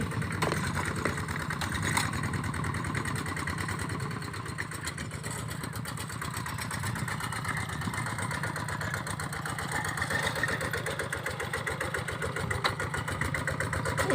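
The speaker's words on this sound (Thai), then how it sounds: "เป็นรถไถคันเก่าเนาะ" An old farm tractor engine chugs along at a steady, rhythmic idle, close by and continuous for the whole stretch.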